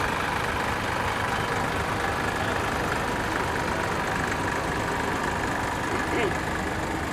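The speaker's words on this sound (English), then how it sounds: "Yeah, sorry, this is a Ferguson TEF20 built in 1955." A 1955 Ferguson TEF20 vintage tractor engine runs at a steady idle at an outdoor steam fair parade, a continuous low drone with crowd noise around it.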